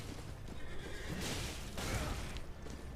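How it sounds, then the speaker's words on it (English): A horse in Elden Ring whinnies loudly and close, a drawn-out neigh set over a dense bed of game noise with rumbling and whooshing throughout. "Horse."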